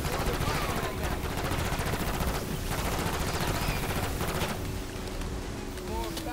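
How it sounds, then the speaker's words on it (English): Rapid bursts of automatic gunfire against parasites in Black Ops 6 Zombies on the Terminus map, dense and continuous over a driving vehicle rumble and wind, easing off toward the end. "I'll shoot the parasites"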